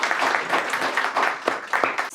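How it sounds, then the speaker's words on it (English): Audience applause after a call for a loud round for a startup founder, a dense, steady patter of many hands clapping at close range, holding level for about two seconds. "we should also give him a very loud round of applause"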